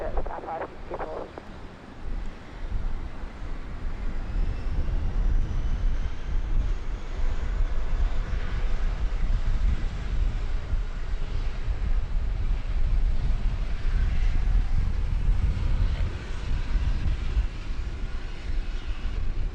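A jet airliner landing on runway 19 right at Brisbane Airport, Australia, its broad engine roar and rumble holding steady and loud throughout, with brief radio-like voice chatter near the start.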